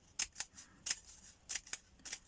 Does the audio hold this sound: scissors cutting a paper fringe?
yes